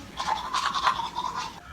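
Rapid scrubbing of a toothbrush against teeth, close and continuous with quick back-and-forth strokes, alone without talk.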